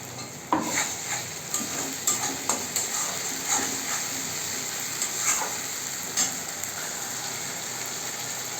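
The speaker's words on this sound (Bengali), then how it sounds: "আমি পেঁয়াজটাকে লাল লাল করে ভেজে নিয়েছি, আর মিক্সিতে যে পেস্টটা করেছিলাম সেই পেস্টটাকে এর মধ্যে দিয়ে দেবো" Browned onion and a ground spice paste fry in hot oil in a pan, a steady close sizzle broken by repeated clattering scrapes and knocks of a spoon against the pan.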